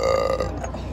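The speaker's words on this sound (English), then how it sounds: "I always burp like that" A single short, close burp sounds out on its own, low and guttural, lasting under a second.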